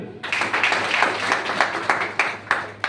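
Applause from a seminar audience in Ahmedabad, a steady dense patter of many hands clapping close by, with repeated sharper surges throughout and no talk over it.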